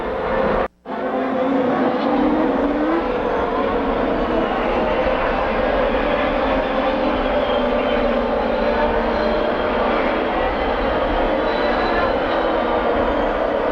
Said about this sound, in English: Now the lead lap cars begin to move in front as they are supposed to.